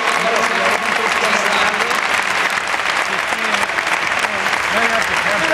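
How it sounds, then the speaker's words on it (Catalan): A large crowd keeps up dense, loud applause that holds steady throughout, celebrating the Regal Barça basketball team's ACB league title. "I volia donar un aplaudiment tot fort a tots"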